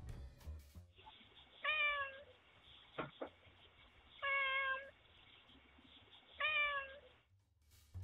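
A house cat meows three times, each call a clear, rising-and-falling tone spaced a couple of seconds apart, close and fairly loud over a quiet room with a soft thump between calls.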